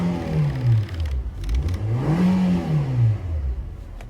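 A 2019 Nissan Versa Note SV idles steadily, its low engine drone rising and falling gently as if lightly revved, heard up close and alone for a few seconds.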